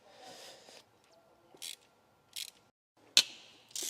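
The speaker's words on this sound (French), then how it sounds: "Donc maintenant, on dessert le galet tendeur." A timing belt tensioner pulley on a Jeep being loosened with a hand tool, several short separate ratcheting clicks and metallic bursts at close range in an otherwise quiet space.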